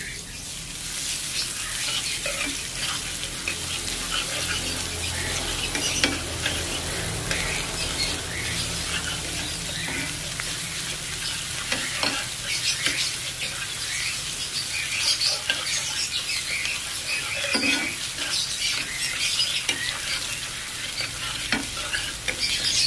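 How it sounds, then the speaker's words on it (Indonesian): Shallots, garlic and ginger sautéing in a pan, a continuous sizzle with frequent spatula scrapes and stirring clicks, moderately loud and close, with faint birdsong in the background. "kita tumis sampai larut"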